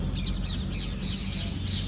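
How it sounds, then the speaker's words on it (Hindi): Parrots perched at a hillside Buddhist monastery site in Rajasthan give repeated harsh squawks, several bursts in an even rhythm over a steady low outdoor rumble, at moderate distance. "तोते वोते बैठे हुए हैं मस्त यहाँ पर"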